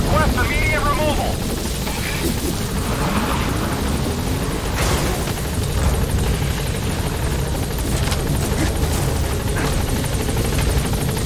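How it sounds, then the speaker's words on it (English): Support helicopter in Metal Gear Solid V: The Phantom Pain, a loud continuous rotor drone and whine arriving overhead, with radio voices speaking over it. "Support helicopter has arrived."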